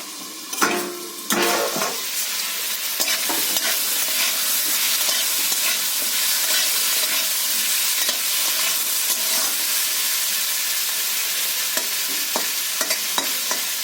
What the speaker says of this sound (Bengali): সবজিটা আমি ঢাকা দিয়ে ভেজে নিয়েছি।